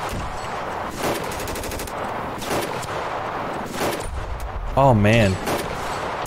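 A SCAR semi-automatic rifle firing in the video game Ravenfield, with repeated sharp shots and bursts amid wider battle gunfire and someone talking over it.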